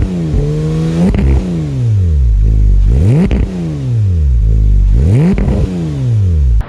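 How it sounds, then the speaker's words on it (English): A 2015 Porsche 991.1 911 GT3 with an Akrapovic cat-back exhaust revs loud and close, climbing and dropping in three repeated sweeps, with clattering gear or throttle blips between the pulls. "We did an Akrapovic exhaust on this car"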